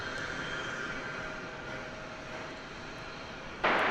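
An American Airlines jet rolls for takeoff at DFW airport, a steady broadband engine roar with a faint whine, holding level before a sudden louder surge of noise near the end.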